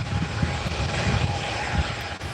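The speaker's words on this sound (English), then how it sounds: "Here comes the Jet 2 to Antalya." A Jet2 airliner bound for Antalya at Newcastle Airport gives off a steady, broadband engine roar that holds constant across the short stretch, with no talk over it.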